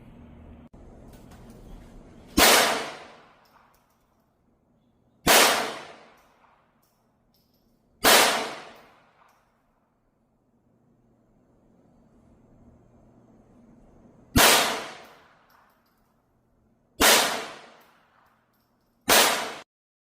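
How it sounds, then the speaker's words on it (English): Six loud, sharp rifle shots from Mini Mag rounds fired unsuppressed ring out outdoors at intervals of roughly two to three seconds, each crack trailing off in a brief decay, with quiet between them. "We're going to do 3 rounds of mini mag, followed by 3 rounds of suppressed, unsuppressed"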